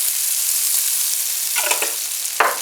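Sausage and peppers frying in oil: a dense, steady sizzle close up, broken by a few short scraping and clattering bursts from stirring, with no one talking.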